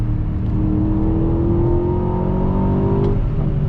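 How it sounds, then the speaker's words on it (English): A 2021 Aston Martin DBX performance SUV accelerates hard, its engine note climbing in one steady rising sweep under a loud, continuous exhaust roar, with a single sharp crack near the end. "Love the pops and the bangs from the back of the cars with that exhaust."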